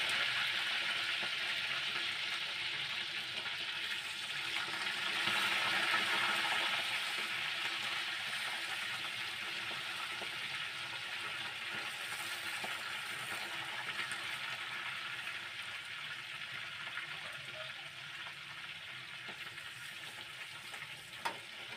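Fish fries in a pan with a steady, dense sizzle and crackle that holds for the whole stretch, fairly close and even in loudness, with no one talking.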